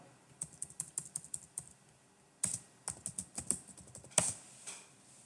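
Bursts of computer keyboard typing as a yum install command is entered on Linux, quick clicky keystrokes in two runs separated by a pause, ending with a harder key press, close and alone.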